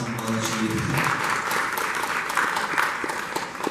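A crowd gives a round of applause, steady and fairly loud, with a brief low voice at the very start.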